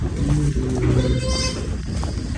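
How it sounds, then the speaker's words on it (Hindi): Goats bleating up close on a goat farm, loud, drawn-out wavering calls over busy farmyard background noise. "अच्छी बकरी।"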